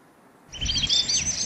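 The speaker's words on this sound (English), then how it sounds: "Chestnut-crowned warbler." A chestnut-crowned warbler's bright, chirping call starts after a brief quiet, a rapid series of high warbling notes continuing close and clear, in Bhutan.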